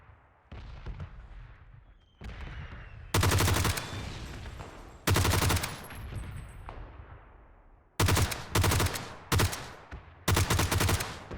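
Gunfire in PUBG on Xbox Series X crackles in bursts, with a distant shot early on, then loud close volleys and rapid automatic strings separated by brief lulls of fading echo.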